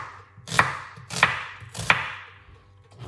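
Three evenly spaced knife chops through a white onion on a cutting board, crisp and close with short pauses between strikes.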